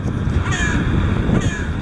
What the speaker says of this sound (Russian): Ворона со мной согласна.